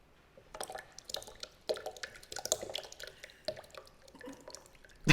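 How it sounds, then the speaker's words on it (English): Bone broth poured from a measuring cup into freshly brewed coffee in a kitchen, a close series of wet drips, splashes and liquid pours coming in uneven bursts. "I went ahead and measured out a half of cup of the actual bone broth. So let's go ahead and pour that in as well."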